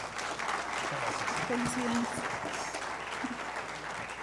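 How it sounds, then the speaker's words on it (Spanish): Audience applause at a national and international cost engineering congress, steady clapping from a room full of people with a voice speaking briefly over it. "Un fuerte aplauso, por favor."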